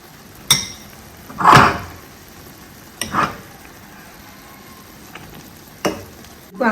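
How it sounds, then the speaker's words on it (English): Corned beef goes into a sauce in a pan, with a few separate scraping stir strokes and clinks, spaced a second or more apart, over a soft, low sizzle; no one speaks. "Let's go ahead and add our corned beef to the sauce."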